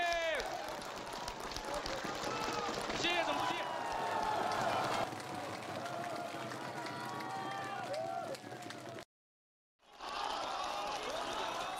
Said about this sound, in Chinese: 在各地基层干部群众热烈的掌声和欢呼声中